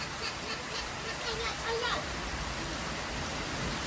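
Rain falls steadily as a dense, even hiss at moderate level, with children's voices and chatter faintly mixed in over the rain.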